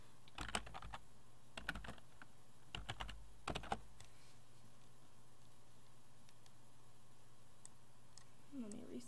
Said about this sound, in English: I can click on reply here and type in my reply.